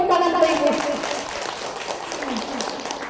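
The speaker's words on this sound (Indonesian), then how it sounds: "Kasih dulu tepuk tangan untuk Ibu." Applause from a seated audience at a parenting-day gathering at a kindergarten, clapping for a mother after her question, with steady close clapping that rises early and then thins out, mixed with crowd murmur.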